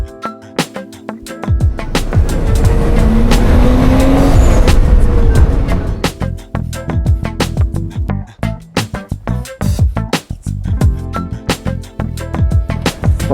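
A car cruising around in Thailand: a sustained engine roar with a rising tire squeal through a skid, followed by choppy, uneven engine bursts and rattles, loud and close.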